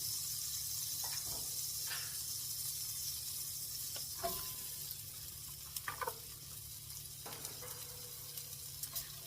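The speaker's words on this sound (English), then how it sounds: "You just want to stir up your onions until they're nice and translucent" Onions sizzle softly in a skillet for a creamy enchilada dish, a steady faint hiss of frying broken by occasional light scrapes and taps as they are stirred. No one speaks.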